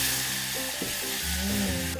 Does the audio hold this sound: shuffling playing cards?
no